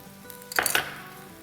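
Crushed garlic drops into about four tablespoons of hot oil for chow mein, setting off a short close burst of sizzling and pan clatter that fades within half a second, with no talk.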